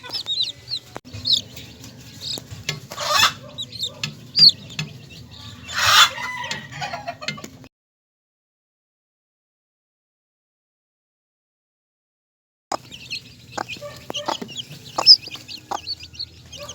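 A mother hen with newly hatched chicks gives soft clucks over high peeping chirps, close by and nearly continuous, with a silent gap partway through before the clucking and peeping resume.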